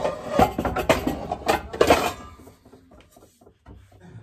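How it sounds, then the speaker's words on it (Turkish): Metal pots and pans clatter and clank in a quick burst of several knocks as a cooking pot is taken out, then a few quieter bumps as the cookware settles, close by. "Tenceremizi çıkaralım."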